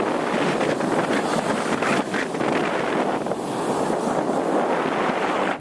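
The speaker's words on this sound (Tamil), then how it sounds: "பீச்சில் காற்று வாங்குற சொகம் இருக்கு" Wind blows at a beach, a steady, loud rushing roar against the microphone with a faint wash of surf underneath and no talking.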